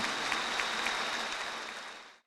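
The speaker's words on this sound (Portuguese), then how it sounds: "Uma salva de palmas para o nosso arcebispo." Applause for an archbishop at a church gathering in Brasília, a steady broadband wash of clapping that holds for about two seconds and then cuts off abruptly.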